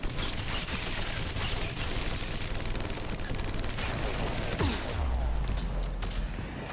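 Continuous automatic gunfire in the video game Mass Effect 3 during a fight with Ravagers, a dense unbroken stream of shots ending in a low rumbling boom.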